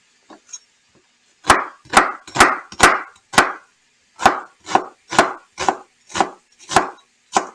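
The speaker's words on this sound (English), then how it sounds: "right now I'm going to cut up the onion, part of the onion" A knife chops an onion on a board in a home kitchen, about a dozen crisp, evenly spaced chops close by with no talking.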